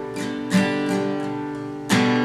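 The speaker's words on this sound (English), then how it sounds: "I can palm mute it and use a different strumming pattern" Acoustic guitar strummed in a palm-muted rhythmic pattern, with a few accented strokes over choppier muted strums, played up close with no voices.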